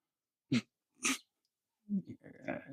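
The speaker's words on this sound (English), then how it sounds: "Doggo barking behind me, important." A dog outdoors in a yard gives short, sharp barks, two quick ones and then a third, followed by rougher grumbling vocal noises, fairly close but not loud.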